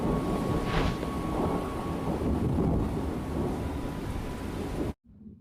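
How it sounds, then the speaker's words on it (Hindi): Steady heavy rain with a low rolling rumble of thunder throughout, loud and continuous, cutting off abruptly near the end. "धीरे धीरे बारिश भी होने लगी और गांव फिर से हरा भरा हो गया।"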